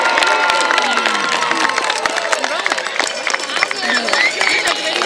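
Stadium crowd at a university football field senior night applauding and cheering fall athletes, a dense sustained roar of claps and shouts with voices mixed in.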